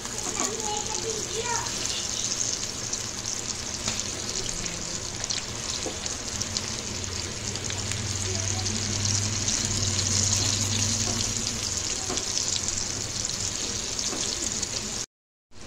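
Chivani fish frying in a pan, a loud continuous close sizzle with brief scrapes as pieces are flipped, cutting off abruptly near the end.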